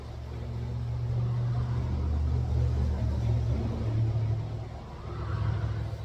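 Road traffic rumbles steadily near a bridge campsite, a low continuous drone of passing vehicles that swells and fades slightly as cars go by.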